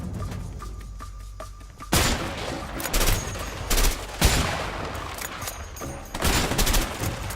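Gunfire from the video game A Way Out: after a quiet lead-in, a sudden burst opens repeated loud sharp shots in irregular clusters, with crackling volleys and brief pauses between them.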